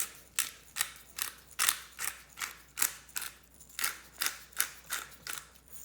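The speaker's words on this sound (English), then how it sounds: "I'm going to season it with a little bit of salt and a load of pepper." A pepper grinder is twisted over a jacket potato, giving about a dozen evenly spaced ratcheting crunches in a steady rhythm, close and fairly quiet with no talk.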